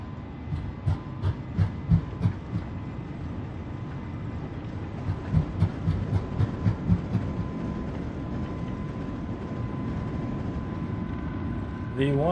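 Airliner engines spool up to takeoff power in a flight simulator, a steady droning roar with rhythmic thumping pulses early on, heard under a talking voice.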